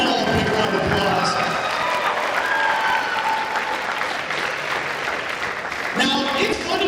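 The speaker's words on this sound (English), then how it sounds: "Let's give them all a big round of applause." Sustained audience applause at a school graduation assembly, a dense steady wash of many hands clapping that holds loud for the whole stretch and swells again near the end.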